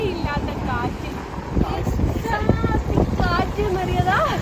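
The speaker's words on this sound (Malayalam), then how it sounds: "ഒരു രക്ഷയില്ലാത്ത കാറ്റ്" A strong gusting wind buffets the microphone in a steady low roar, with people talking over it throughout.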